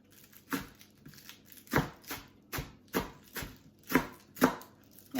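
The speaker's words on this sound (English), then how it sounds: "now I'm going to just do a little extra chopping, like I do" A knife chops greens on a cutting board for spanakopita, a steady series of crisp, close thuds about one every half second, with no talking.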